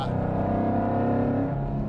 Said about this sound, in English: It's just more fun to drive with the open exhaust